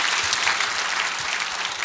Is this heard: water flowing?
no